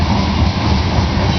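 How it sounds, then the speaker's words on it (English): A train passes close behind, filling the air with a loud, continuous heavy rumble and rattling wheel noise, with no voices over it. "The damn train behind me is kind of throwing me off"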